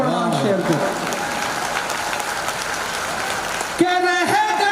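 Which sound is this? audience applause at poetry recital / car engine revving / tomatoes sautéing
audience applause at poetry recital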